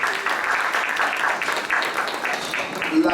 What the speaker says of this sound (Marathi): एकदा वारेंसाठी आपण जोरदार टाळ्या वाजवतो